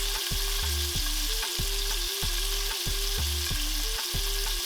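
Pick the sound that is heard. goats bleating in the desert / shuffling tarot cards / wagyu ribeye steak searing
wagyu ribeye steak searing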